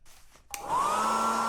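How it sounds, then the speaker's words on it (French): A hair dryer clicks on and spins up into a steady, loud whine and rushing airflow that holds constant and close, with no talking over it. "prends le sèche-cheveux."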